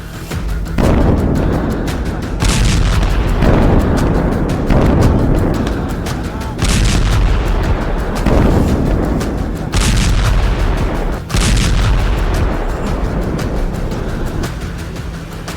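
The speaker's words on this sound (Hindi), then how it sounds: "पिछले 18 घंटे में ही बेरूत पर इजरायली सेना ने 100 टन से ज्यादा बम और मिसाइलें बरसाई हैं" Bombs and missiles strike Beirut in a series of heavy, booming explosions. About six deep blasts recur every couple of seconds, each followed by a rumbling tail, with a dense roar continuing between them.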